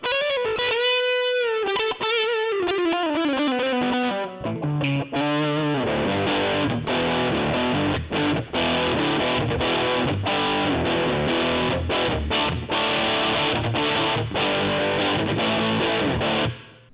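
GTRS S801 electric guitar on the bridge pickup through its Blues RG preset, a gritty overdriven tone opening with bent sustained notes, then a busy run of choppy riffs and quick licks, loud and continuous.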